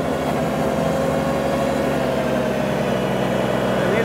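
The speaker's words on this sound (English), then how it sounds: "You hear my engine fighting." A tractor engine labors steadily in two-wheel drive while turning in circles, a continuous low, strained drone with no break across the short stretch.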